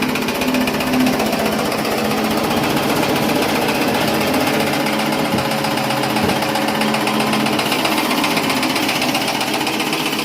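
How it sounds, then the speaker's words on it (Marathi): An Ambika Agro chaff cutter runs loud and nonstop, a dense rattling mechanical churn as green Napier grass is fed through and chopped, with no voices. "मशीन नॉनस्टॉप चालू द्यायची आणि अशा प्रकारे त्याच्यामध्ये चारा लोटायचा"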